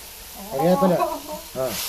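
Garlic, ginger, green chili and curry leaves sizzle in a pan as they are stirred, a hissing fry running under a voice that speaks briefly over it.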